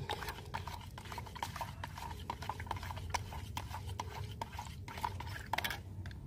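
Bion M fungicide solution for chili plants is stirred in a container, producing a steady run of rhythmic clicking and scraping strokes at low volume with no talking.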